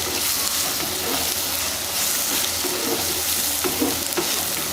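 Chopped tomatoes sautéing with masala in a pan for a dried anchovy (nethili karuvadu) gravy, giving a steady close sizzle with soft stirring scrapes throughout, no voices.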